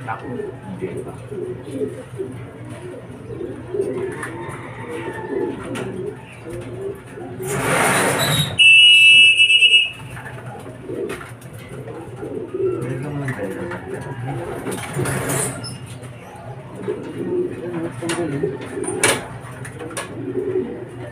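Racing pigeons landing at a loft during a first-lap derby arrival, with steady low cooing from several birds throughout, a loud burst of wing flapping and clatter midway, and people talking over the flock.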